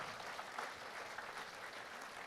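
An audience at a church sermon claps for their leader, a steady, moderately distant patter of many hands filling the whole stretch without speech over it.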